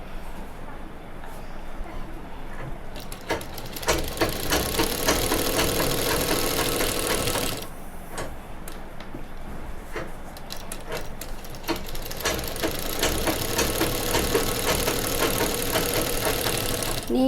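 An electric sewing machine stitches the seam of a nighty in a tailoring class, its motor running in rapid rattling bursts with short pauses between runs of stitching.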